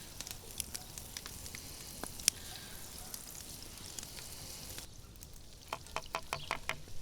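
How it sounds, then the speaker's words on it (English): Diced onion and garlic frying in butter in a hot cast iron pan, a faint steady sizzle with scattered crackles and pops, growing busier toward the end. "In a hot cast iron pan, we add some butter, followed by the diced onion and the garlic."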